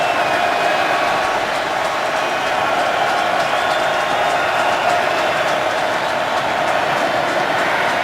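A packed stadium crowd roars at a Baltimore Ravens home opener against the Cleveland Browns on a third-and-17, a continuous loud wash of cheering and noise with no breaks across the whole stretch.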